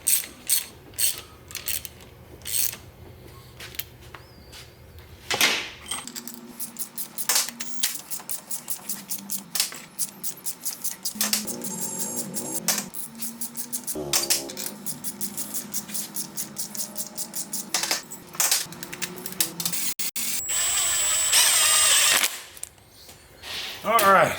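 A ratchet clicks steadily while cylinder head bolts go into an LS V8 engine being built for a Miata swap, with close, rapid pawl clatter through most of the stretch and occasional speech around it.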